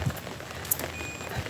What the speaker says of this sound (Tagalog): Umuulan guys. Umuulan.